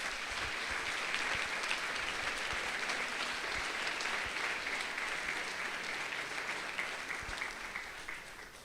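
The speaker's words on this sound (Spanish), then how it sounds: "¿Cuántos le dan un aplauso a nuestro Rey" A church congregation claps together during a Sunday service, dense continuous applause at moderate level, steady for several seconds before easing slightly toward the end.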